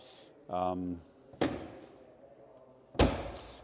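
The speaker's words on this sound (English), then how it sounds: "Doors shut nicely." A brief voice, then two solid door slams on a 1956 MGA 1500 classic car a second and a half apart, each a sharp thud with a short ringing tail.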